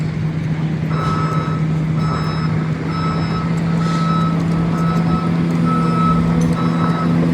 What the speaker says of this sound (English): Just a Bobcat on a downtown Chicago sidewalk, right behind the bus stop.